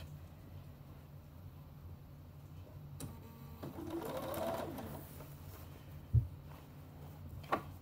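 A sewing machine running a zigzag stitch on shorts fabric, a steady mechanical whir that is faint and close, with a couple of sharp clicks near the end.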